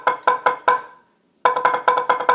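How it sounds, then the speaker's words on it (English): Drum strokes practising a check pattern with a double stroke roll: four quick, evenly spaced hits, a brief silence, then a faster, denser run of about seven strokes, played alone and close. "we can do a double stroke roll over the 16th notes like this"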